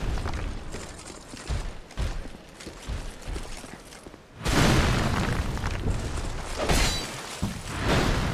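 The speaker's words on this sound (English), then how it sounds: "Oh, exploding barrels." Exploding barrels going off in Dark Souls II: Scholar of the First Sin, a sudden loud burst of blast and shattering debris midway that stays dense and rumbling, after quieter game sounds.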